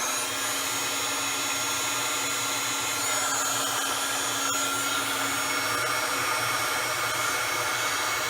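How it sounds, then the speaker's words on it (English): A heat gun blows a steady, loud, airy whir as it melts clear embossing powder for a craft project, running unbroken and alone throughout. "Make sure you move your gun, your heat gun, so you don't have a fire."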